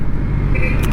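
Steady road traffic rumble from cars around a 2019 Yamaha Sniper 150 version 2 motorcycle riding in Lipa, with a continuous loud engine and road drone and a faint higher tone near the end.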